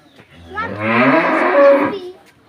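A bull moos on a farm in one long, loud, close call that swells and fades over about a second and a half, with nothing else around it.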